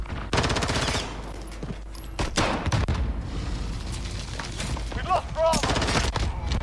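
Pistol gunfire in a first-person shooter game, several sharp shots in a quick burst followed by scattered single reports, loud and close under a busy game backdrop.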